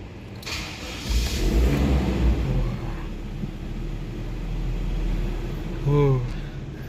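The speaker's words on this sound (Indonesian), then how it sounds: "kita starter ya, kita nyalain aja yuk." A 2002 Toyota Kijang 2.0 LGX automatic cranks and catches, then settles into a steady, close mid-pitched idle rumble with a brief rev bump near the end, heard without talk.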